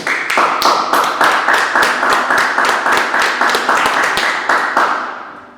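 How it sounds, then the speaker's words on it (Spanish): Church congregation at Iglesia Jesús Vive claps in praise, a loud, close burst of rhythmic, somewhat uneven clapping lasting several seconds before fading out. "Un aplauso para el Señor."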